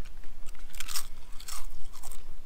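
Loud, close crunching and chewing of food during a timed eating challenge, with irregular crisp bursts of mastication repeating over a low background.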